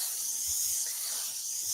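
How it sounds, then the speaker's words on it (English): A steam iron hisses steadily as it releases steam onto fabric laid over an ironing board, with a constant, soft, breathy spray running through the whole stretch and no talking. "giving it this some steam."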